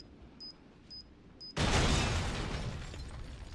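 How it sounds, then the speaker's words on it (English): A placed explosive detonates in Resident Evil 7: three faint short beeps, then a sudden loud blast that booms and rumbles away over two seconds, with no talking. "Here come a big explosion."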